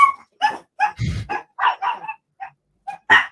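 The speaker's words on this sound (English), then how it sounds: "The dogs are just seeing off a burglar or someone." Dogs barking in quick repeated bursts, close and loud, with a short whimpering growl in the middle and no talk.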